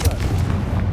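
Confringo fire spell cast in Hogwarts Legacy, a loud, booming fiery burst like a close explosion that rumbles through about a second of combat noise.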